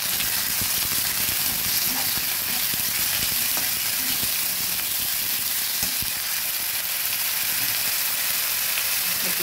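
Onion paste and ginger frying in a pan, a loud, steady sizzle with continuous crackle and occasional stirring scrapes throughout, no voices.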